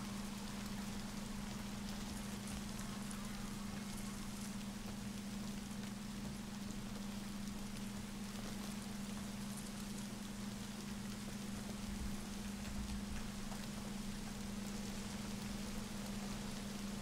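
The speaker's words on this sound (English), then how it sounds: "It has to be raining, doesn't it?" Steady rain in the video game Days Gone, a constant, fairly quiet hiss of falling water with a low steady hum beneath, alone with no talking.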